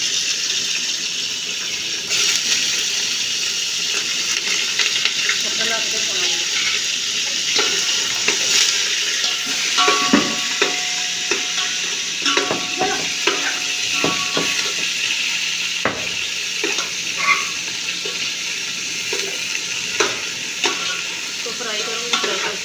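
Chicken frying in a pan, a loud, continuous close sizzle with scraping and rattling from stirring, plus brief watery hisses, without speech.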